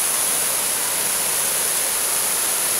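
A cascade tumbling down over a bed of rocks gives a steady, dense rush of white water, loud and constant throughout with no voices on top.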